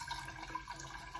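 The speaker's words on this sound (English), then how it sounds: "then you're gonna fill the water up to just at the top of the leaf" Water pours steadily into a glass cylinder vase holding rolled greenery, a soft continuous splashing trickle heard close and quiet with no talk.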